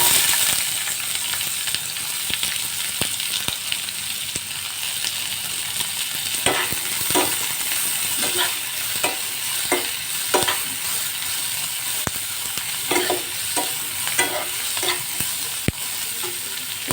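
Capsicum sizzling in hot oil in a pan, a constant loud frying hiss broken by repeated scraping knocks of a spatula stirring, close up and with no talking.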